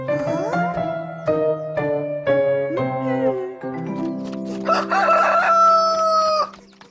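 A rooster crows in the animated cartoon Upin & Ipin, loud and close, with a series of crowing calls over a sustained tonal music bed.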